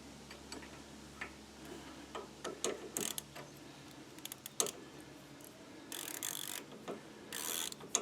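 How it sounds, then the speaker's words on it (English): A hand ratchet clicks as it turns a tie rod end onto damaged threads during steering repair on a Craftsman lawn tractor. Sharp, irregular pawl ticks come in short bursts, close and fairly loud, with no talking. "I'm using my thumb to hold the anti-spin thing of the ratchet."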